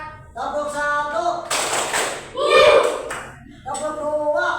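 Children in a classroom clapping game join in a single group clap right after a teacher's spoken cue, with chanting voices before and after the sharp burst of hands.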